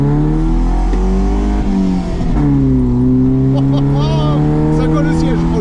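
A Volvo 945 engine revs up and settles into a steady drone heard from inside the car, with a rising whine near the end and people talking over it.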